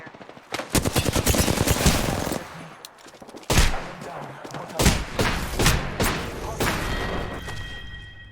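Automatic gunfire in the Apex Legends battle royale shooter comes in several bursts, loud and close, with rapid repeated shots and thumping impacts separated by short pauses.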